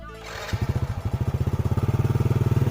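A motorcycle engine putters at a steady mid pitch with rapid rhythmic pulses, fairly close and continuous, with no talking, on a rural road in Laos in the evening after rain.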